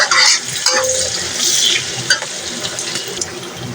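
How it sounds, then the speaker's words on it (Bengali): A spoon stirs chana dal with meat in a pan, scraping and clinking against the pan over a steady sizzle, close and fairly loud, with no talk. "এটাকে আমি বাদামি কালার দিয়ে চামচা করে নেবো"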